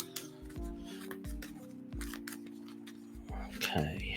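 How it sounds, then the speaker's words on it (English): A deck of Marvel Champions cards being shuffled by hand, repeated soft riffling and rubbing close by, with a steady tonal hum running underneath. "just shuffling."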